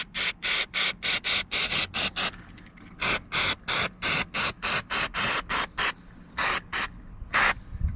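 Aerosol lubricant sprayed onto the joints of a stabilizer jack on a 2015 Tab Max-S trailer, a rapid series of short hissing bursts with brief gaps between them, close and distinct.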